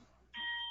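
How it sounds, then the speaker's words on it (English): A clock chime sounds faintly in the background, a sudden steady bright tone that holds for under half a second after a brief quiet stretch, with no talking. "or the clock chiming"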